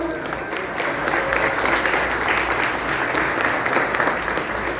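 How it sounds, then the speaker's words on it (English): A crowd at a campaign launch for a ward council candidate claps together in a steady, continuous round of applause, moderately loud and filling the whole stretch with no break. "Can we hear a round of applause?"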